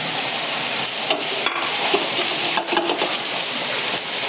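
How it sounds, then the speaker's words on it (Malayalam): Potatoes frying in a pan give a steady, loud sizzle with hiss and crackle throughout, plus a few clicks and scrapes of stirring. "ഇനി അതിൻ്റെ മേലെ ഈ ഉരുളക്കിഴങ്ങ് പൊരിച്ച് കൊടുക്കുക"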